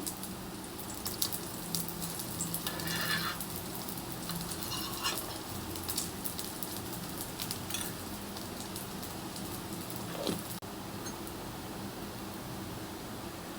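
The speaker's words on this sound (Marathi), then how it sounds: "दोन्ही साईडनी सोनेरी रंगावर भाजून घेतला" Bhagar sabudana chilla fries in ghee on a pan, giving a steady, soft, hissing sizzle with no voices throughout.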